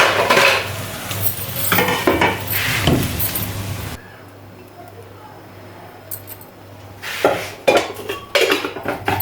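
Fried vegetables lifted out of a pan onto a plate, metal utensils clinking and scraping in clustered bursts, a quiet pause with a low hum, then more clattering as someone talks between.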